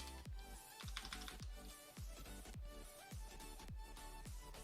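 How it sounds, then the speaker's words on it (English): Heavy keystrokes on a computer keyboard come in quick, uneven clusters of sharp clicks, close to the microphone, with no voices. "my current microphone probably picks up my typing already. I'm a pretty heavy typer."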